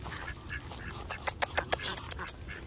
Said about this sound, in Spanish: Pajaritos también.